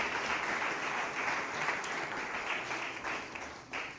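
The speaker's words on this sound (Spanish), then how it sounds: "Una ofrenda de palmas, Señor, con todo el corazón." A church congregation gives a sustained round of applause during a worship service, steady dense clapping from many hands filling the room throughout, loud and continuous with no talk over it.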